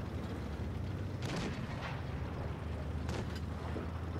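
Tank cannon shots in World of Tanks Blitz against a French tier 8 AMX CDA 105 tank destroyer, two sharp booming impacts on armour over a low rumbling engine bed, fairly quiet overall.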